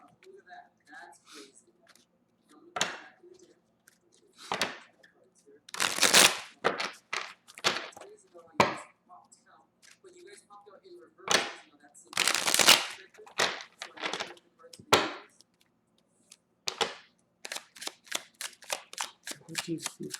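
Cards are riffle-shuffled in several quick crackling bursts spread across the stretch, close by, with soft handling noises between them.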